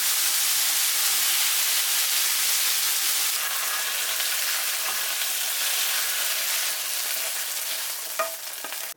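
Beef searing in a hot pan, a loud, steady sizzle that holds for several seconds, with a few clinks and scrapes of stirring near the end.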